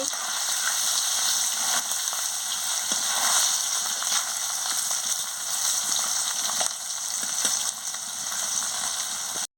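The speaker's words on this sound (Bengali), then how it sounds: "পনিরগুলোকে আমি লাল লাল করে ভেজে নিচ্ছি" Paneer cubes dusted with a little turmeric fry in oil until browned, giving a continuous dense crackling sizzle with no speech.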